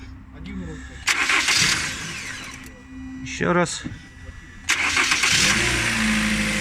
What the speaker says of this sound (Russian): Все, тачка завелась.